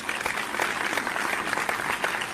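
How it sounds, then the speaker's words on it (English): Recorded applause sound effect played back on a podcast: dense, even clapping from a sizable crowd, steady and moderately loud throughout without voices on top. "I have to play an applause because that's all I've got."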